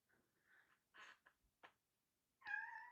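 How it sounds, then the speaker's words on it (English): A house cat meows several times in short, quiet, plaintive calls, ending with a longer, louder meow close by. "That's a very sad meow."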